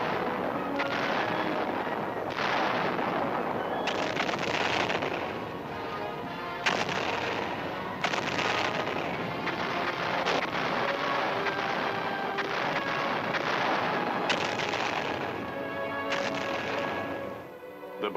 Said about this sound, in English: the communists opened fire on the offshore island of Quemoy